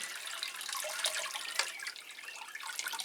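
Water splashes and trickles steadily for a few seconds, a soft pouring sound with faint drips.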